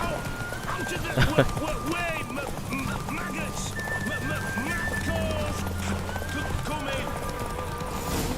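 Hooves clip-clop steadily as a horse gallops in The Witcher 3, with a brief neigh and game-like tones over it, and voices talking throughout.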